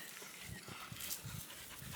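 Dogs outdoors near an old tree making scattered low snuffling, whimpering sounds, faint and intermittent, with a voice calling softly in the background.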